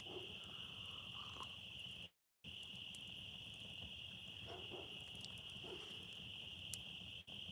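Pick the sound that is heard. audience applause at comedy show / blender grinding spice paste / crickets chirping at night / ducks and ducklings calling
crickets chirping at night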